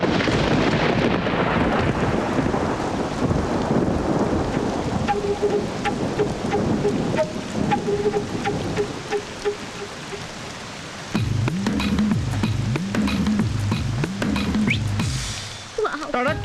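Steady rain pours in a film scene, a broad continuous hiss with low rumbling like thunder, joined partway through by faint music and a brief low voice.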